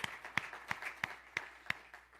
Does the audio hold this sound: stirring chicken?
no